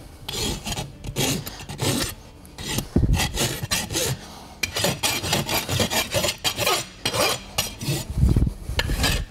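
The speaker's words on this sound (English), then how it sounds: "Using the smooth side of the file, I'll take any burrs or sharp edges off." A farrier rasps burrs and sharp edges off a horseshoe and hind hoof with the smooth side of a file, giving repeated rhythmic scraping strokes, close and loud, with no talk.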